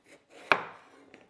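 A knife slices through a thick aloe vera leaf on a cutting surface, giving one crisp, close cut followed by a short dragging sound.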